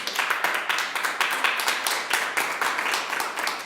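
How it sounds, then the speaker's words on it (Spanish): A church congregation claps together in praise during a sermon, a steady, rhythmic round of many hands beating in quick pulses for several seconds with no talking over it. "Denle un aplauso al Señor, por favor."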